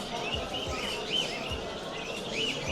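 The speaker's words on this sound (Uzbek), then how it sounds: "gapiradigan mayna bozorga chiqqan" A talking myna calls at a bird market in Qoraqamish, with several clear chirps and whistles rising over the steady hubbub of the crowded market.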